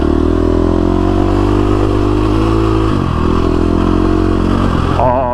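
A KTM 350 SX-F dirt bike converted for desert riding chugs along in first gear, its loud close single-cylinder engine droning steadily with slight throttle changes near the end.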